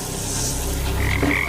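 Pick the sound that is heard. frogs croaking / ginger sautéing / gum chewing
frogs croaking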